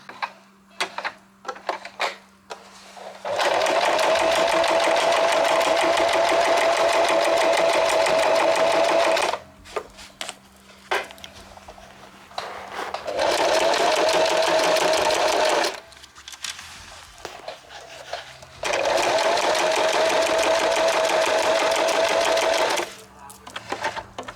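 A sewing machine stitching a gambeson fauld for LARP gear runs in three long steady bursts of rapid mechanical stitching, loud and close, with quieter handling noises and pauses between runs.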